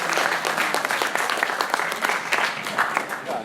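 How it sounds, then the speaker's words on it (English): Brief, lively applause from an audience at a Maker Faire keynote, dense clapping with distinct sharp claps standing out, holding steady for a few seconds. "So let's get a round of applause."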